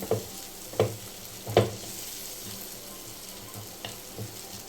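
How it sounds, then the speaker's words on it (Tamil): Garam masala spices sizzle and fry in a hot pan, with a few sharp scraping stirs early on and a steady crackle underneath. "நல்லா இந்த மசாலா வாசனை போகிற வரைக்கும் வதக்கிக்கலாம்"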